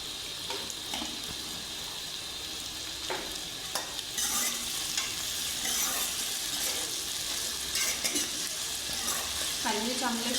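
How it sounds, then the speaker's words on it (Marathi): Onions fry with a steady sizzle in a pan while a spoon stirs and scrapes in intermittent strokes, moderately loud and close, with faint background voices at times. "कांदे चांगले शिजू द्यायचे आहेत."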